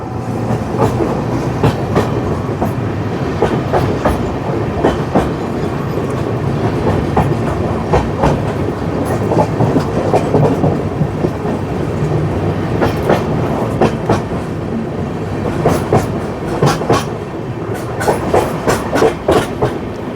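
An express train crosses the Sonnagar rail bridge, its wheels beating a steady clickety-clack over the joints with a continuous rumble, heard loud and close from on board for the whole stretch.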